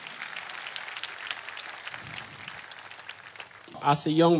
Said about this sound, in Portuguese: Vamos aplaudir a nosso Senhor Jesus Cristo